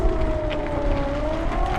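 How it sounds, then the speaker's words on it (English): Emergency sirens wail steadily outdoors after a phone alert, a sustained tone holding at moderate loudness over a low rumble of traffic for the whole stretch. "we're hearing sirens"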